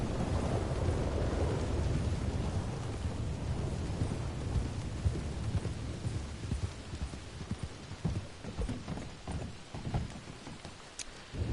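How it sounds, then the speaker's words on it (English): Rolling thunder from nearby localized lightning rumbles loud and continuous amid steady rain, swelling early then breaking into scattered crackles and patters toward the end, with no voices. "That is very localized lightning."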